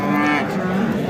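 Cattle at a livestock market give a single sustained moo, loud and close, lasting about a second over a busy background.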